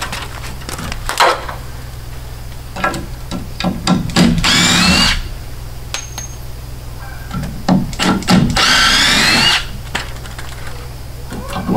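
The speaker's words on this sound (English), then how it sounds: "Are you unscrewing something?" Power drill backing screws out during an off-grid cabin build: two close, whirring bursts of a few seconds each, separated by tapping, clicks and handling noises.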